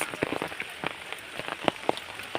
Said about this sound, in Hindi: बारिश तो खूब होता है, मशीन से